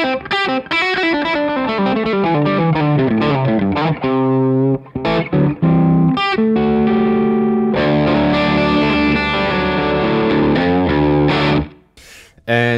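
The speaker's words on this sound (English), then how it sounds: "So this is my Les Paul Standard 50s into the Rev D20." A Les Paul Standard 50s electric guitar runs through a Rev D20 overdrive pedal pushed by a Lightspeed, giving a loud, driven, sustained tone with fast runs and held chords before it cuts off near the end.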